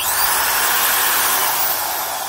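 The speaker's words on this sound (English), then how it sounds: "it's actually pretty handy to have a high-speed quarter-inch drill" A Milwaukee high-speed quarter-inch corded drill running at full speed, a loud, steady high-pitched whine held without a break, close up and alone.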